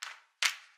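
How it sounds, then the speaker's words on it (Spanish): Two crisp hand claps spaced evenly on the beat during a band rehearsal, close and dry, with nothing else sounding. "Ahora aplaudan en el tercer golpe."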